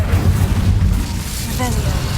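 An Incendio fire spell cast in Hogwarts Legacy gives a whooshing, rumbling burst that runs loud and steady for about two seconds under low background music.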